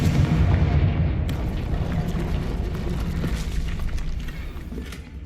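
A Confringo fire spell blasts off in Hogwarts Legacy, giving a loud, rumbling explosive boom that fills the opening and then slowly fades across several seconds, with no other sound over it.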